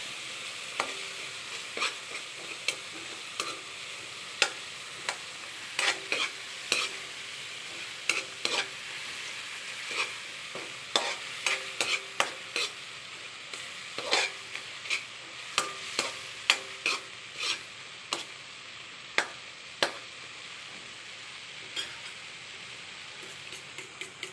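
Eggs and plenty of tomatoes cooking in margarine in a pan, a constant soft sizzle broken by many sharp scraping and clinking stirs at an irregular, busy pace, with no talking.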